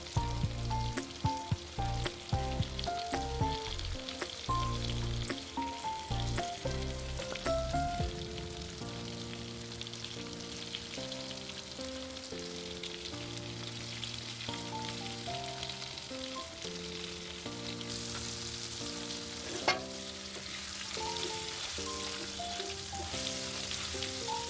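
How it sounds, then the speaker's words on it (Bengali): Hilsa fish snacks fry in a pan with a continuous, even sizzle that sits under fairly prominent background music throughout. "তো দেখো আমি এবার লাল লাল করে ভেজে নিয়ে উঠিয়ে নিই।"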